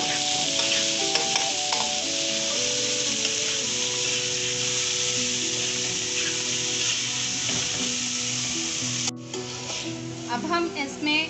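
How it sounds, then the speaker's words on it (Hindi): Cubed chicken pieces frying in a pan with a steady loud sizzle and occasional stirring scrapes, continuous throughout with no talk. "अब इसे हम तब तक फ्राई करेंगे जब तक कि चिकन का कलर अच्छे से चेंज ना हो जाए।"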